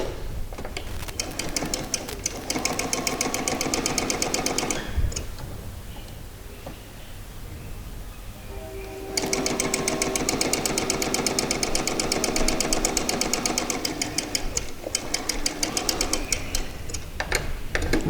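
A sewing machine runs zigzag stitches through fabric in two long steady stretches with a short slower pause between, a close rapid mechanical ticking at moderate volume.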